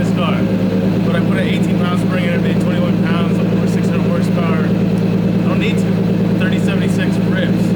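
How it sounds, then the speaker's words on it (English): A turbocharged K24-swapped Nissan 240SX idles and hums with a steady low engine drone in a home garage, while someone talks over it throughout. "The Gary Turbo sounds amazing."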